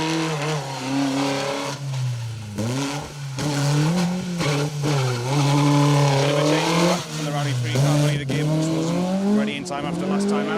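Rally car number 27 races along an asphalt stage at Rally Ceredigion 2023, engine revving hard and tires squealing as it passes, loud and sustained beneath commentators talking.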